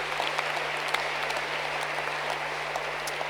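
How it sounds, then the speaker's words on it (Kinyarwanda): A church congregation at Restoration Church Masoro claps for the Lord during a service, giving a fairly soft, steady patter of many hands with a constant low hum beneath it. "Can't you clap for the Lord?"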